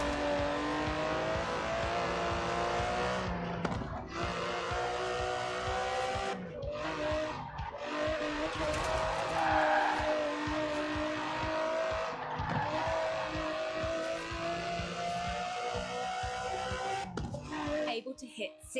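Aston Martin DB11 with its 5.2-litre twin-turbo V12, driven in the Forza Horizon 4 video game, drones steadily at high revs with shifting engine tones and brief tire squeals, loud and continuous throughout.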